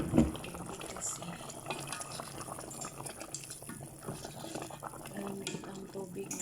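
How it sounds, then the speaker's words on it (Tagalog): Water runs and splashes into a cooking pot at home, a steady moderate pouring and bubbling sound close by with faint background noise throughout. "Tatagan muna natin siya ng tubig"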